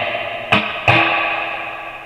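Spring reverb in a guitar amp fitted with a Mod tone tank, giving a crisp, punchy, surfy splash: two sharp crashes, each followed by a long shimmering decay that rings on to the end.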